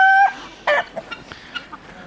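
Roosters and hens in a big mixed flock: a short crow-like call opens, then a second strong squawk, followed by scattered clucks and cackles of varying loudness, nearby and without speech.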